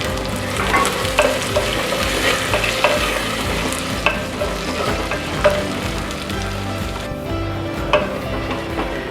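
Chopped tomatoes stirred into fried onions in a pan for a Tamil anchovy fish curry, with steady sizzling and repeated spoon scrapes and clacks throughout, close and fairly loud, with no voices.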